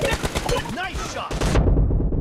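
Gunfire in the mobile battle-royale game PUBG Mobile, a rapid run of sharp shots packed together, with a louder, denser burst near the end.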